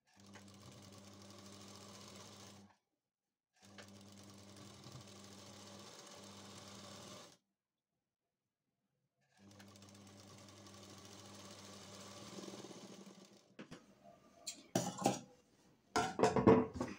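A sewing machine stitches a double seam on a princess-cut blouse in three quiet, steady runs separated by short pauses, followed by faint clattering and handling noises.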